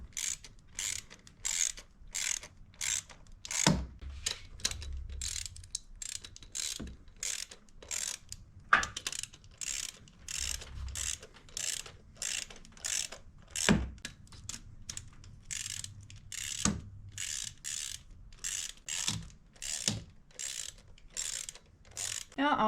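Ratchet tightening coil pack bolts on a 2011 Chevy Malibu, a steady run of quick, sharp clicking strokes up close with a few brief pauses between bursts.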